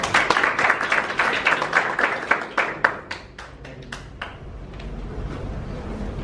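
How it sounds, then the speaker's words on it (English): An audience at a Cairo Toastmasters club meeting bursts into brisk applause that quickly thins to a few scattered claps and fades into room noise. "give him a round of applause"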